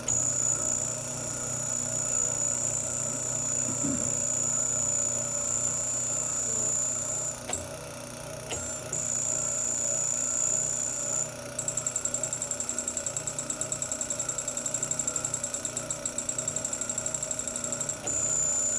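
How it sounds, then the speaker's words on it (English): Small electric motor spinning an unbalanced weight on a spring, a steady low mechanical hum with a constant high whine and faint rhythmic rattling, quiet and continuous. "we're going to look at a motor that's driving an unbalanced weight to set up some oscillations in the spring"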